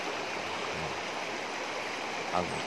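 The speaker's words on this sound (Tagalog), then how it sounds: "Ito yung ilog na lagi namin binabaybay bago kami makarating sa lupa namin doon sa bundok." River water flows steadily along a mountain route in a continuous wash of rushing noise, with a couple of faint low knocks partway through.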